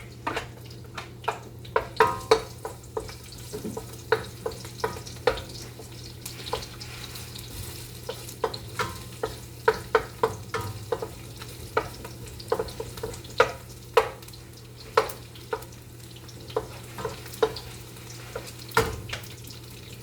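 Garlic frying in a pan at the start of a soup, heard as a quiet sizzle under frequent sharp clicks and scrapes of stirring spread across twenty seconds, with a low steady hum in the background and no talking.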